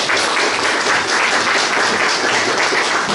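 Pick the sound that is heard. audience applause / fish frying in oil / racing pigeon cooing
audience applause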